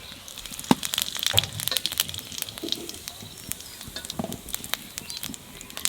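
Cumin seeds crackle and sizzle in hot oil for a Bengali chickpea-greens ghonto, a steady close frying hiss broken by sharp pops and spits.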